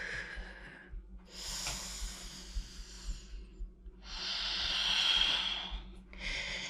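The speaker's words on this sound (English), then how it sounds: "Nice deep breaths as you go." Slow, deep breaths during a leg day workout come as long, close, airy inhales and exhales separated by short pauses, over a low background hum.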